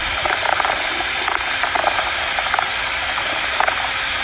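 A paint stirrer on a drill churns sugar water in a 5 gallon bucket, giving a steady mechanical whir and hiss with faint rhythmic clicks throughout, loud and close.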